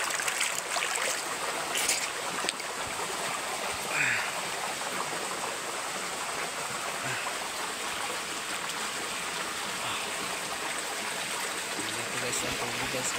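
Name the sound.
waterfall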